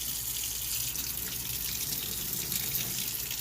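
A tap runs steadily as the water warms up, a soft continuous hiss and splash close by.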